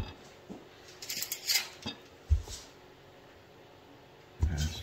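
A knife cuts lengthwise through baked potatoes on a board, producing a few soft thuds and scraping sounds, a firmer knock midway, and another thud near the end, with speech heard in places.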